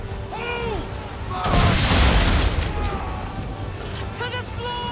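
Naval cannon fire aboard a ship in Assassin's Creed III gives one heavy, roaring blast that swells and lingers for a couple of seconds, with crew voices shouting before and after.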